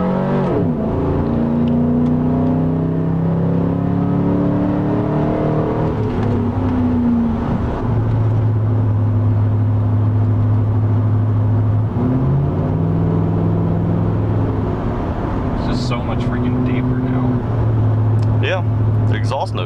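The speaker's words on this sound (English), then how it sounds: "the exhaust is like popping and crackling all the time now" Car engine with exhaust running throughout, a steady low drone with shifting pitch as revs rise and fall, and scattered crackles and pops near the end; voices can be heard briefly.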